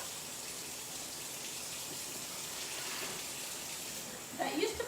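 A faucet runs in a steady gush, close by, continuing throughout with a brief voice near the end.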